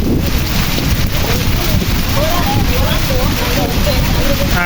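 A heavy afternoon rainstorm with strong wind in the Pernambuco backcountry roars steadily and loudly as wind buffets the microphone, with voices talking faintly underneath.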